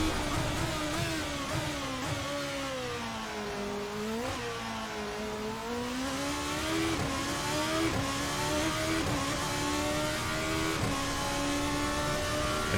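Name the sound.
GP2 race car accelerating in video game Assetto Corsa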